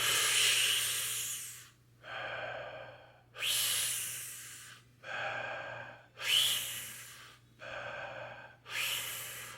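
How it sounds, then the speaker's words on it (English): Slow, deep belly breaths alternate evenly, each long airy inhale followed by a softer partial exhale, close to the microphone with a faint low hum behind. "taking a deep breath fully in like this and then partially out"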